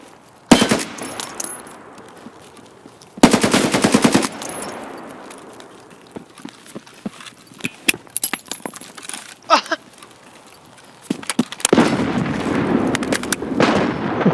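Gunfire in Escape from Tarkov: several loud bursts of automatic fire interleaved with scattered single shots, metallic clicks and clatter, with quieter gaps between.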